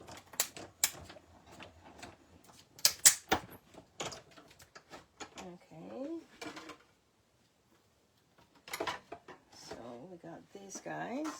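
A die cutting machine feeds a card through its cutting plates during card making, giving a string of close mechanical clunks and clicks, with someone talking between and over them.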